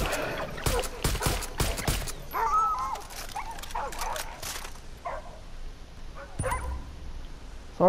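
Boomer the dog whimpers after being shot in the video game Far Cry 5, with high yelping whines following a series of sharp gunshot cracks, then fading into quieter ambience.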